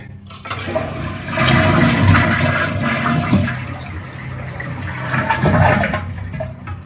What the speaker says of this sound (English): Then you want to flush the toilet to make sure you empty the tank.